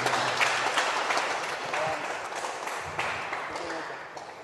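A church congregation applauds, a broad, steady wash of clapping that slowly fades, with voices mixed in underneath.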